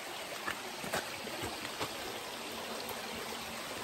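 Water rushing along a jungle waterfall stream, a steady close broadband wash of flowing water with small splashy surges, no voices.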